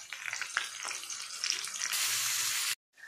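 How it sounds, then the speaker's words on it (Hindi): Peanuts and onions fry in a pan with a steady close sizzle and a few stirring scrapes, the crackle swelling louder near the end before cutting off abruptly to silence. "तो पीनट और प्याज मैंने इसमें डाल दिए हैं, इसे हम अच्छे से भून लेंगे।"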